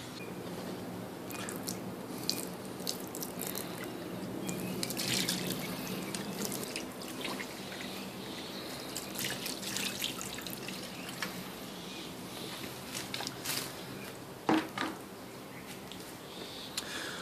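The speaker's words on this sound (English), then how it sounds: "So I'm going to splash a little more water on there" Water drips and trickles steadily, running off the windshield cowl area of a 2006 BMW 325i, with scattered splashes and droplets, fairly quiet and with no one speaking.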